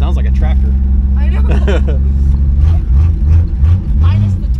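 Low, tractor-like idle from a 1967 Plymouth Valiant engine runs steadily under conversation, with slight lumpy surges toward the end.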